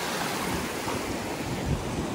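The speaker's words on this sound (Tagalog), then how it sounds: "ang ganda ng dagat oh. Kaso medyo maalon kasi yung..." Choppy sea waves wash onto the shore at Marsalforn on Gozo, Malta, a steady close rush of surf with wind across the microphone and no voices.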